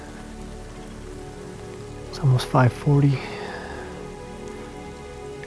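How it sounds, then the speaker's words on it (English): Light rain falls in the woods on Iowa public land at dusk, a steady, soft, even patter that continues throughout, with a person speaking briefly over it midway. "it's starting to rain a little bit"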